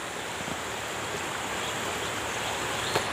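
A flooded river rushes past, carrying large logs, with a steady broadband roar of fast water close by and a brief louder splash near the end.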